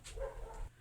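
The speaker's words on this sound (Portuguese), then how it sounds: "desculpa o barulho aí dos cachorrinhos" Small dogs barking inside a home, a few quick yapping barks close by with no talking, heard while crochet work on a rug is underway.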